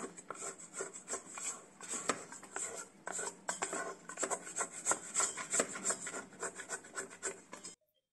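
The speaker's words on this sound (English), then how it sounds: "we stop the mixer, scrape the sides of the bowl, and get rid of the stuff sticking to the sides" A spatula rubs and scrapes around the sides of a stand mixer bowl of milk bun dough, a close, quiet run of uneven scratchy strokes that stops abruptly.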